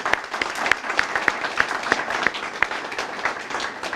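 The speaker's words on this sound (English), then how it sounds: "You deserve a round of applause." Applause from an audience at a housing authority award ceremony: a dense, steady patter of many hands clapping that continues without a break from start to end.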